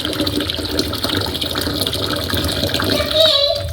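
Hot water pours into a container for washing a child's hair, a steady broadband rush of liquid that runs unbroken and fairly loud, with a short brighter splash near the end.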